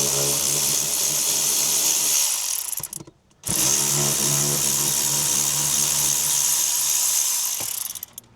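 Power tool whirring steadily while undoing bolts under a car during a drift car build, loud and continuous, briefly stopping midway before running again.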